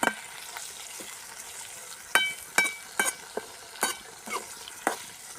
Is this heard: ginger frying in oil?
yes